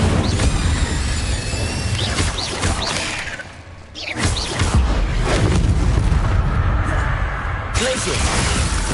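Incendio fire spell blasts in Hogwarts Legacy on PS5: repeated loud booming explosions and whooshes, with a brief lull midway, amid steady intense combat noise and a voice calling out.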